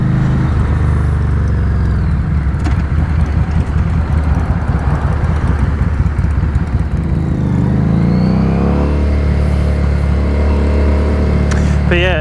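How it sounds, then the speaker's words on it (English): A 2017 Harley-Davidson Street 500 motorcycle engine revs up and settles several times, loud and close, with a throaty rumble and rising pitch sweeps, over steady road and wind noise. "it's quite a revvy little bike actually"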